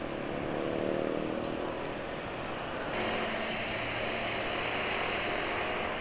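A steady motorcycle engine drone runs throughout, smooth and even at moderate distance, with a slight shift in tone midway and no voices.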